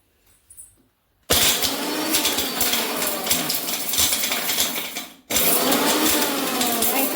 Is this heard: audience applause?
no